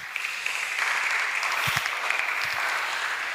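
A church congregation breaks into sustained applause during a Sunday service sermon, a dense, even wash of clapping that carries on steadily with no voices over it.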